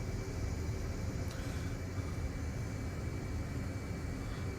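F/A-18 Hornet in the DCS flight simulator taxiing onto the runway: a steady, loud jet engine roar and broadband rumble, unchanging throughout, with no voices.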